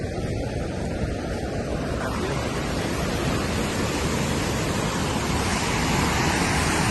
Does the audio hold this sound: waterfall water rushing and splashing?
yes